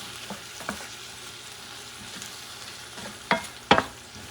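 A spoon stirs Puerto Rican salted cod stew in a pot over steady sizzling, with soft scrapes and two sharp clanks of metal against the pot near the end.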